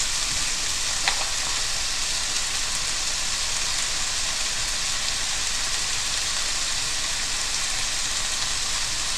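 Stir fry sizzling loudly in a pan as sauce goes in, a steady close crackling hiss with a brief splashy pop near the start and no voices.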